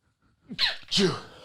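A single sneeze, close and sharp: a quick inhaled build-up followed by a loud burst, with silence before it.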